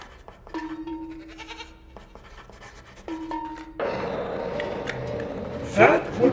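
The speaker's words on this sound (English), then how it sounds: "Cursed sword with bells and goat noises, apparently." A cursed sword in a horror video game bleats like a goat twice, each a wavering tone, before a burst of noisy scuffling and voices rises in the game.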